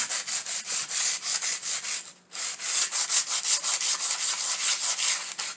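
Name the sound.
sanding down a wooden craft piece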